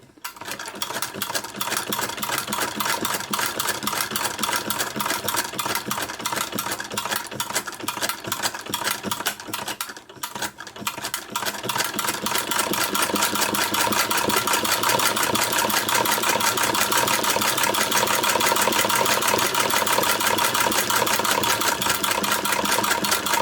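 A sewing machine fitted with a Greist rotary buttonholer runs a narrow straight stitch around a buttonhole, a fast steady mechanical whir with one brief pause partway through.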